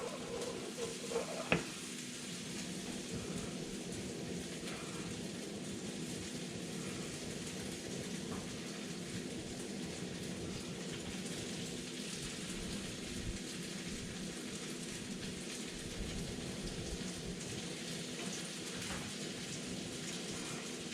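Kitchen torch melting sugar on top of crème brûlée in a ramekin, a faint, steady roaring hiss that continues evenly for a long stretch with a single sharp tap early on.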